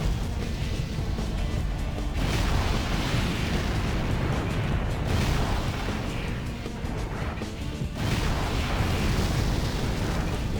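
Continuous heavy rumbling blasts from a grenade cannon in Armored Core For Answer, loud, dense and broadband, with a couple of sharper impacts standing out from the steady roar.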